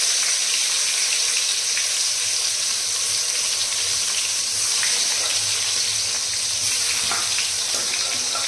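Food fries in a pan on a kitchen stove, a steady close sizzle and crackle with no one talking.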